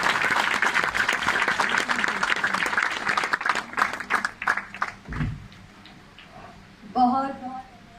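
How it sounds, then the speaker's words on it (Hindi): Audience applause at a live stage program in Bilaspur, dense steady clapping for about five seconds that thins out and fades, followed by a brief voice near the end. "लगातार तालियां बजती रहें"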